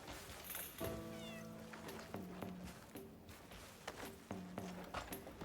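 A cat meows repeatedly in the video game Crimson Desert, with several clear, drawn-out mews spread over a few seconds amid soft footsteps and ambient game sounds.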